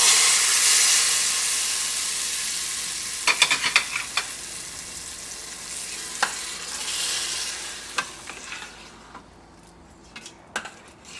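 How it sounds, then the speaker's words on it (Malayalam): Hot oil tempered with chili powder poured into a vegetable curry gives a loud hiss that fades over several seconds, with scattered clinks and stirring taps of a spoon against the pot. No voices are heard. "ചൂടോട് കൂടിയിട്ട് നമ്മുടെ കറിയിലേക്ക് ചേർക്കാം."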